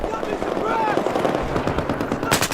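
Rapid automatic fire from an MG4 machine gun in a video game, a dense continuous stream of shots with battlefield noise and background voices mixed in.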